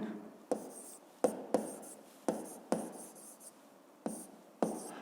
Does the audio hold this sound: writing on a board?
yes